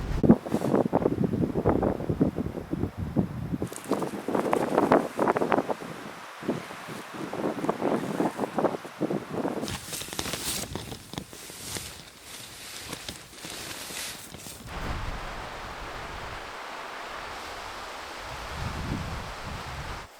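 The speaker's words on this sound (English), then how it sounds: "Pretty windy on and off here." Gusty wind buffets the microphone in uneven bursts in the Canadian wilderness, loud at first and then easing to a softer, steadier rush.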